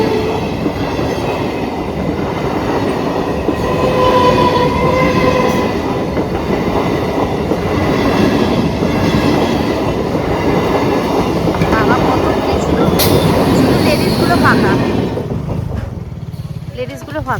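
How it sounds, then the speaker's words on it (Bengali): A train pulls into a station with a loud, steady rumble and rattle of wagons that holds for most of its length, as voices talk nearby over the noise. "আসছে ট্রেন"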